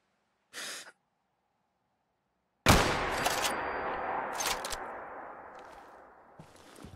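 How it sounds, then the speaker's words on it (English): Gunfire in Fallout 4: a short isolated shot, a pause of silence, then a loud burst of shots with trailing echoes and scattered follow-up cracks fading away. "let's shoot him"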